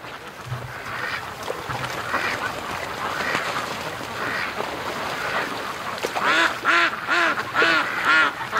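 Ducks on a lake give a long run of quacking, scattered and moderate at first, then a loud, close burst of rapid rhythmic quacks near the end, with steady outdoor background noise.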